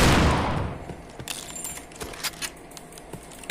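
Gunfire in the shooter game Point Blank crackles in quick sharp bursts and single shots after a loud opening blast, with clicky mechanical sounds between them.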